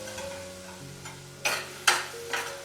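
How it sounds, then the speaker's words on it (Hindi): Gram flour (besan) with coriander and turmeric stirred in a pan: quiet background sizzle with three distinct scraping strokes of the spoon, near and moderately loud, with no voices. "बेसन को अच्छे से करना है, हमें चलाते रहना है, थोड़ा ब्राउन हो जाए तब तक चलाना है इसको"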